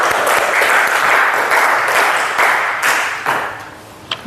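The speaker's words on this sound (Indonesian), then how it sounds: "Tepuk tangan untuk kita semua." A classroom group of students applauding together, a dense burst of clapping that holds steady, then thins out into a few scattered final claps.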